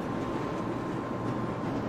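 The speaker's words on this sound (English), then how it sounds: "I don't have control of this train." A runaway train in the Black Mesa video game rumbles along at a steady, moderately quiet level, a continuous rolling drone with no talk over it.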